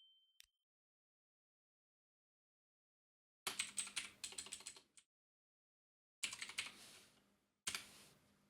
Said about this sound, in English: Don't know what's going on there with my typing.